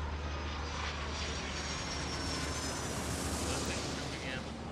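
A jet takes off in Airport Madness World Edition, its engine roar swelling into a loud, sustained rushing blast across the whole stretch with no talk over it.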